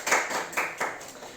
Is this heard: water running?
no